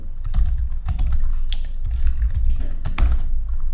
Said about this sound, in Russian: вводим его с клавиатуры.